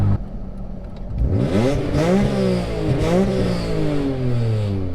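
A car engine with work headers, Megan Racing section 2 pipe with resonators and a Megan Racing section 3 muffler revs repeatedly. The loud, close exhaust note rises and falls through several sweeping throttle blips.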